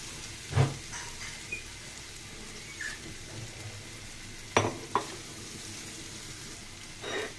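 Fried potatoes cook down with added water in a wok, making a soft, quiet simmering sizzle broken by a few sharp scrapes and knocks of stirring.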